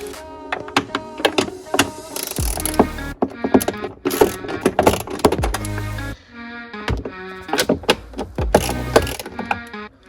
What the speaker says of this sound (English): remove this bolt and this bolt using your 10mm.